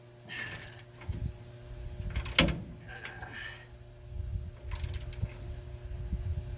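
A Harbor Freight wrench tightening rear leaf spring bolts on a 2001 Ford F250 Super Duty, bursts of ratcheting clicks and metallic knocks separated by quieter pauses, close and moderately loud over a low hum.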